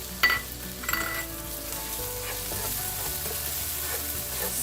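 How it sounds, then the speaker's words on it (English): Chopped tomato hits a pan of browned onions with a steady, close sizzle of frying, stirred with a few soft clinks of a utensil near the start, with no talking. "My onions have browned nicely. I'm adding the chopped tomato,"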